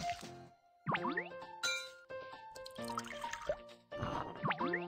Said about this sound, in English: Mix latex and water.